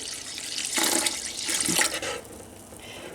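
Well water pouring into cooking pots, a steady close splashing flow that swells in the middle and eases off toward the end, with no talking.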